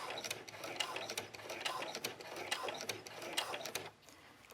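Sewing machine stitching a dog leash, a steady close mechanical whir and rapid needle chatter running continuously before easing off near the end.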